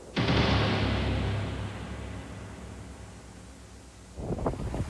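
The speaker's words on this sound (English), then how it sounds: "It is extremely windy these past few days here in Detroit and Michigan." A strong gust of wind buffets the microphone at a cemetery in Michigan, roaring loudly at first, easing off, then rumbling again as another gust hits.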